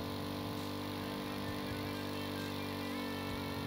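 Modular engine built in the game Stormworks running steadily while it spins a propeller, producing a continuous droning hum with a low rumble and no break.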